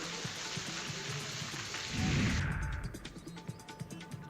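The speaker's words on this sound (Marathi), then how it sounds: "पुन्हा पावसानं जोरदार हजेरी लावली" A steady hiss of heavy rainfall, with a brief low rumble of thunder partway through before the downpour thins out.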